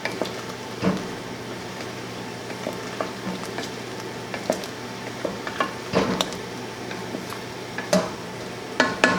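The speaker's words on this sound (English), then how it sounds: "Continue to stir occasionally for another 10 minutes." Cranberry sauce cooking in a pot on the stove, a spoon stirring through it with a low steady bubbling underneath and scattered clicks and knocks against the pot.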